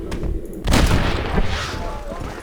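A single booming gunshot from the video game Red Dead Redemption, a deep report followed by a rolling echo that trails off over a couple of seconds.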